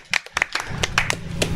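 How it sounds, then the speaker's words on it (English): Audience at a Bali tourism and investment event clapping after a long speaker introduction, a short burst of scattered hand claps, fairly close and brief. "Another round of applause for a very long intro."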